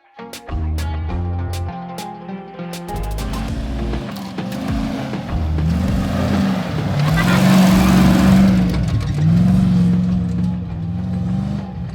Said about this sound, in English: that soft sand just sucks all the speed out of the car